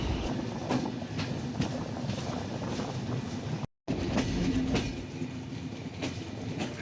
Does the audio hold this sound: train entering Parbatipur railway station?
yes